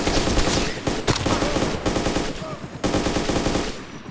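Machine gun fire in the Arma 2 video game: rapid continuous bursts of loud gunfire across the whole stretch, with a few sharper cracks standing out and no pause.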